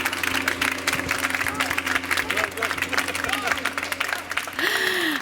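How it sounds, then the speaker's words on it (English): Workshop audience applauds the panelists at a living soils forum, irregular clapping mixed with murmuring voices and some chatter, with a brief tonal sweep near the end. "the beautiful panelists, if you can give them a round of applause."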